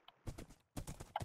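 Horse hooves clip-clop in two quick bursts of hollow knocks, close and fairly faint, with a short pause between them.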